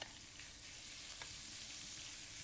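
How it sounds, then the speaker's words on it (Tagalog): Minced pork frying in a pan after the garlic and onion sauté, giving a steady, bright sizzle that stays close and even from start to finish, with no talking. "Pagkagisa, lagyan na natin ang ating karne."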